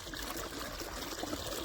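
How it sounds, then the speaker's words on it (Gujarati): Irrigation water runs through an organic wheat field, a steady, even trickling and gurgling flow heard close and continuous with no other sounds over it. "અહીંયા આપણે પાણી ચાલુ છે સરસ મજાનું"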